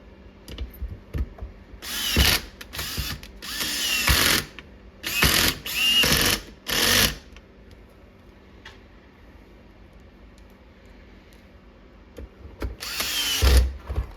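T20 Torx screws are driven to mount paddle shifters on a 2011-2014 Ford Raptor steering wheel: short repeated bursts of a power driver whirring, several in a row, then a pause and one final burst.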